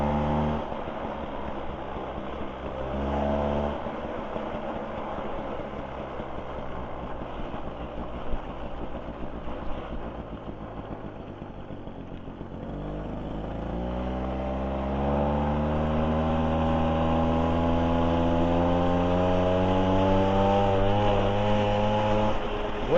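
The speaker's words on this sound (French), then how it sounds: "Vous voyez de suite les tours qu'elle prend quoi, pour un AV7." A stock GAC SP96 Grand Turismo moped with an AV7 engine runs close by: an uneven idle first, then revving with the pitch climbing steadily and holding high, loud and without talk.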